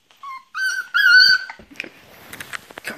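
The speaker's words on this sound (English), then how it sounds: "Well, the dog is here." A dog whimpers in a few high drawn-out whines, then breaks into softer snuffling and short yips, close and loud indoors with no talk.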